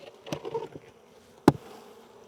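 Honey bees buzzing around a hive that had been a laying worker colony, with a faint drone close by and a sharp knock or tap partway through, brief and quiet.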